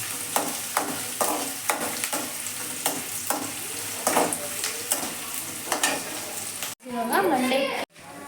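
Girmit mandakki mixture spluttering and sizzling in a hot pan, a steady crackling fry broken by sharp stirring scrapes, close and loud, with a voice talking over it near the end.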